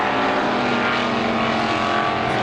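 Strictly stock race cars roar together around a speedway oval during a heat race, a dense, loud, steady engine drone with no break.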